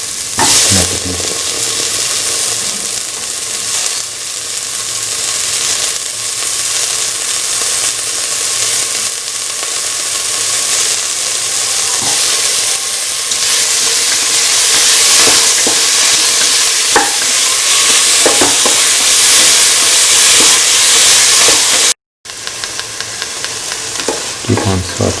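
Cauliflower and bottle gourd sautéing in a pan for a vegan stew, a loud continuous sizzle with scattered stirring clicks throughout, briefly cut off near the end, no talk.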